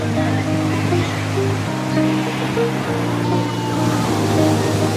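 Ocean waves at Tarkarli beach in Malvan give a loud, continuous wash of surf, with a steady low tonal hum running underneath throughout.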